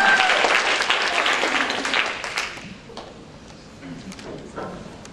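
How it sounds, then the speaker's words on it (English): Audience at a motivational talk bursting into loud applause that fades over several seconds, leaving scattered claps and crowd murmur. "Give yourselves a round of applause."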